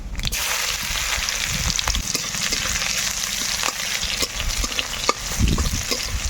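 Crushed garlic and black cumin seeds fry in oil in a kadai with a soft, steady sizzle, broken by occasional stirring scrapes and a louder clatter near the end.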